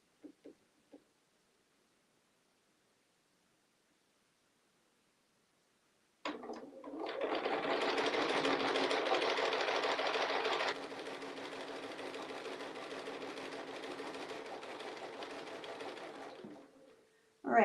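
Sewing machine running a steady stitching line across a quilt block, a continuous close mechanical whir lasting about ten seconds that eases slightly partway through, with brief small clicks before and after and no talk.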